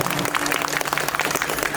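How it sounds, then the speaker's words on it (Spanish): Audience applause at a 54th anniversary celebration for Santa Rosa de Lima in Lima, a dense, steady patter of many hands clapping at close range, continuous for the whole stretch with no voices over it. "fuerte las palmas, el aplauso fuertísimo"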